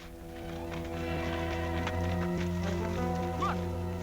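Horses from a 1950s Western drama step along with a steady clip-clop of hooves over a continuous low musical score, the hoofbeats close but partly blended into the background.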